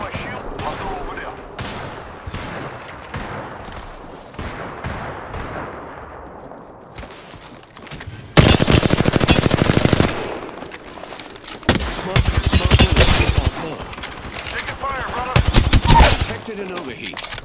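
Gunfire in the shooter game Apex Legends: bursts of rapid automatic fire come in loud dense stretches with short pauses, mixed with game effects and someone talking in the early part.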